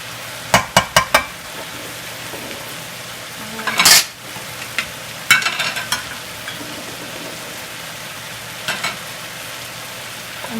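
Barberries and onion fry lightly in a pan for Persian zereshk polo, a faint low sizzle broken by a few sharp spatula scrapes and clicks.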